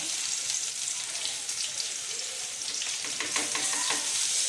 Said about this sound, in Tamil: எண்ணெய் சூடாகிடுச்சு நான் வந்து போடுவேன் வெறும் வெங்காயம் தான் போடுறேன்